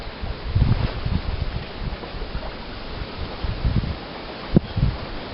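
Wind gusts buffet a microphone outdoors at a carp fishing spot, a steady rough rumble with stronger bursts and a sharp knock near the end, no talking.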